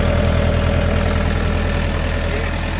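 A small diesel engine of a 2025 ENEY TY404 mini tractor idles steadily with a low, chugging rhythm, close by and loud, with no pauses or voices.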